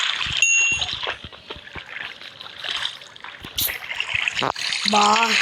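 Flowing water in Minecraft trickles and splashes steadily, mixed with short digital chimes and tones, while a voice speaks briefly over it.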